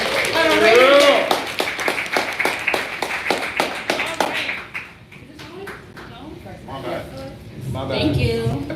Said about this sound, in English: give yourselves a round of applause just for being here today